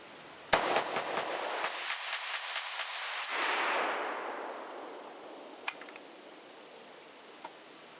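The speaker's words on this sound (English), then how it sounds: "We had a little pause in firing there because I tried to mash the trigger too fast" A handgun lubricated with canola oil fires a rapid string of sharp shots from one magazine, about ten bangs in quick succession, followed by a longer pause and then two isolated shots later on, loud and close outdoors.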